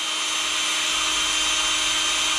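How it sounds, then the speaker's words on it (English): A power drill bores a hole into a ring, a steady continuous grinding whir held at loud, even level throughout with no pauses. "drilling a hole about 3/4 of the way down."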